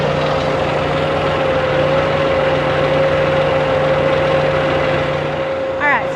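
A tractor engine runs steadily at idle on a ranch feedlot, a constant close drone with a sustained hum and no clear change in pitch.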